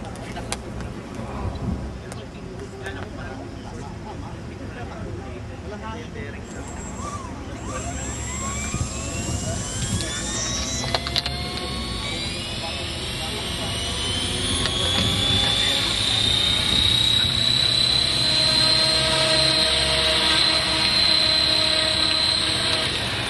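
A large helicopter hovering nearby on a ranch, a loud, steady turbine whine and rotor roar that rises in pitch and swells over time, with voices talking underneath.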